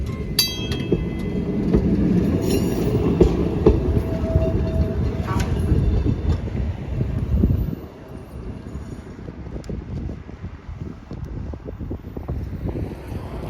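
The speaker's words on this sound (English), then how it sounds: "So we just rode the streetcar pretty much to the lake" Kenosha streetcar rolling along its 1.7-mile counterclockwise lakefront loop, a steady low rumble and wheel noise with wind buffeting that drops noticeably softer partway through, with faint talk beneath.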